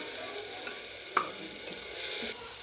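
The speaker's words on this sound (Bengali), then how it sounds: "আমরা ডাইলে বাগার দিম প্রথমে একটা আমরা একটু তেল দিলাম" Hot oil sizzles softly in a pan while tempering urad dal, a steady hiss with one brief sharp crackle near the middle and a slightly brighter fizz toward the end.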